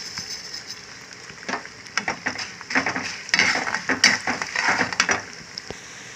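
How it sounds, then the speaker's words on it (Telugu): Mustard seeds and cumin frying in hot oil in a pan for a curry leaf pickle, a steady close sizzle with crackles, popping seeds and occasional stirring scrapes that build and thicken toward the middle before easing off. "కదా వేగుతున్నాయి ఇందులోనే ఆవాలు వేసేసుకుందామండి అలాగే జీలకర్ర"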